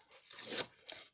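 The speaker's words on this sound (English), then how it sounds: "then you're going to take this tape off" Tape backing is peeled off a paper craft tab, a brief, faint tearing rip that swells and fades, followed by a short second crinkle.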